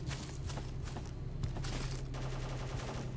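Enemy gunfire in STALKER: Call of Pripyat, a steady rattle of shots that sounds like a machine gun, somewhat distant and muffled, continuing for a few seconds over ambient noise.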